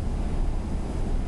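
Wind rushes over the microphone aboard a Scania R500 restyling truck with Opticruise on open flat road, a constant rumbling hiss that stays level and close for the whole moment.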